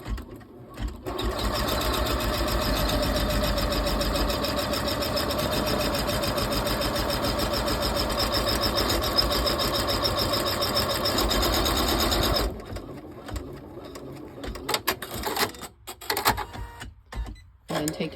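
An embroidery machine stitches an applique outline on a hooped split-front zipper purse, a steady, close, rapid mechanical chatter lasting about twelve seconds before stopping, followed by softer handling clicks and knocks.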